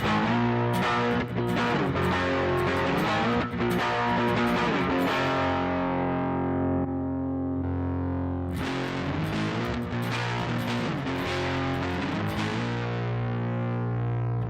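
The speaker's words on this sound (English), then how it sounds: "It's an almost fuzzy overdrive there." An electric guitar plays chords through a Line 6 M9 effects processor's fuzzy overdrive, gritty and saturated, with a brief decaying pause midway before strumming resumes.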